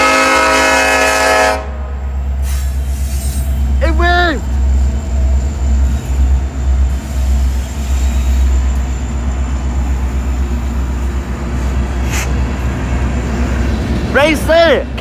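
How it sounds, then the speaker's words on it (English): An SD70MACe freight locomotive rumbles past loudly at Rosenberg, Texas, sounding its K5LA horn in two short blasts over the heavy rolling noise of the train, with people speaking nearby. "Locomotive for the lead, SD70MACe."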